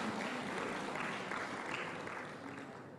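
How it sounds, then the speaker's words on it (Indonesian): Brief crowd applause at an Indonesian education funding event, a dense steady patter of many hands that fades slightly over three seconds. "Jadi ini adalah mungkin tepuk tangan untuk Kemenq"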